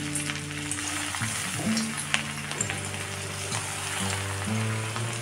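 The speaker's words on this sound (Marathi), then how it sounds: "तेल गरम झालेलं आहे। ह्याच्यामध्ये आता मासे असेच ठेवूया।" Karli fish sizzling steadily in hot oil in a pan for Marathi-style fry, a dense continuous crackle with occasional louder pops and spits, close and alone.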